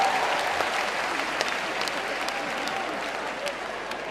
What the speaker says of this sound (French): Applaudissez pour les enfants de nous ici dans ces pays.